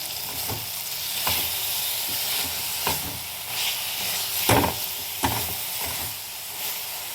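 Bathua and spinach greens with fried lentil dumplings sizzling in a pan, a steady hiss broken by regular scraping stirs.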